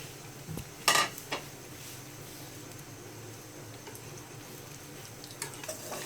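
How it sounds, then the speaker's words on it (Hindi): Crispy chicken potato donuts frying in oil on a low flame: a faint, even bubbling hiss with a couple of sharp utensil clinks near the start and a few soft knocks later. "लो फ्लेम पर इसको फ्राई कीजिएगा।"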